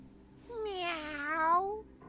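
A cat in the King's Quest video game gives a single drawn-out meow, rising then falling, clear and alone against near silence.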